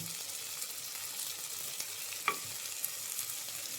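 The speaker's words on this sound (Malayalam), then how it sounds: "മൂത്ത് വരുമ്പോൾ അതിലേക്ക് ഒരു ഏത്തല് വേപ്പില" Curry leaves drop into hot oil with sliced onion, giving a soft, steady frying sizzle with a few small pops and crackles throughout, no voices present.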